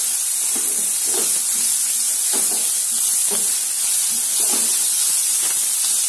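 Chopped onion sizzles in a hot pan with a steady hiss of frying, broken by soft periodic scraping taps of a spatula as it is stirred.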